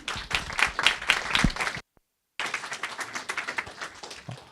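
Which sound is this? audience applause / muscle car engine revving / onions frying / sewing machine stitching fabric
audience applause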